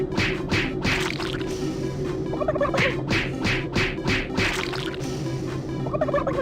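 Turkeys gobble in Super Turbo Turkey Puncher 3, a string of loud, rapid rattling gobbles repeated through the whole stretch over a busy game background.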